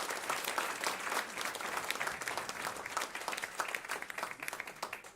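Audience applause following a talk at a regenerative agriculture event, a steady wash of many hands clapping that holds evenly throughout, moderately distant and fairly soft.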